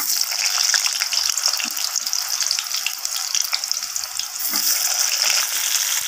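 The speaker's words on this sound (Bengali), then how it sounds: "এরপর কেটে রাখা আলুগুলো এখানে আমি তেলের মধ্যে দিয়ে দিলাম।" Cut potatoes dropped into hot oil in a home kitchen pan, a continuous bright crackling sizzle with scattered pops, loud and close throughout.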